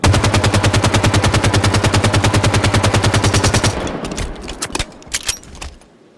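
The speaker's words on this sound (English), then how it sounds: "You cannot underestimate the Halo 5 assault rifle." Halo 5 assault rifle fire in a video game: a long rapid automatic burst of even, loud shots, then a few scattered short bursts and single cracks trailing off, with no talking.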